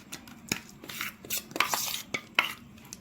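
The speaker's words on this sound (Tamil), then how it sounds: "ஸோ இந்த மாதிரி நல்லா மிக்ஸ் பண்ணிக்கலாம்." A spoon stirs a fruit and cucumber facial paste in a bowl close by, giving quick irregular scrapes and sharp clinks against the bowl, fairly quiet, with no speech.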